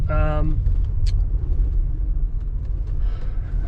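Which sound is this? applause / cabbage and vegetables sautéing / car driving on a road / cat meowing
car driving on a road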